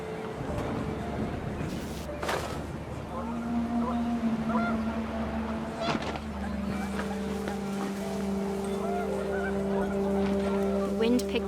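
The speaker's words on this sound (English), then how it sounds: "The wind picked up, and panicked geese appeared and quickly went." Geese honk in the video game What Remains of Edith Finch, a few scattered calls over a low windy ambience with steady background tones, moderately loud and briefly bunched together.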